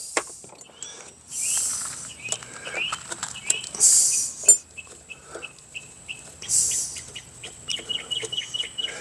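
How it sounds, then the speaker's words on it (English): Busy clucking and chirping from fowl and small birds, high-pitched calls repeating in bursts over a quiet background, some fairly close. "Hear all that chirping going on?"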